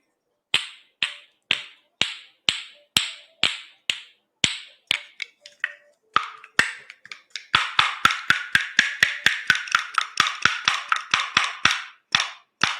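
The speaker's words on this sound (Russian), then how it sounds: "Продолжают ложечки." Wooden spoons played as a percussion instrument give sharp, crisp clacks, first at a slow even beat, then in quicker, busier rhythmic runs, close and clear with no voices.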